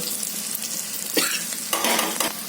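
Cumin, turmeric, chili and asafoetida temper in hot oil for a spicy chili dish, giving a steady close sizzle with two louder bursts of frying as the spices go in.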